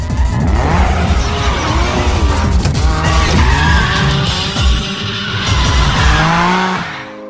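Cars drifting in a night street race in Tokyo, with loud revving engines and long, wavering tire squeals that carry on almost without a break before easing off at the end.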